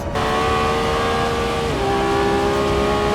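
A Lamborghini Revuelto's 1015 hp V12 engine roars as it accelerates hard, its pitch climbing steadily, briefly dipping at a gear change, then climbing again, with no talking.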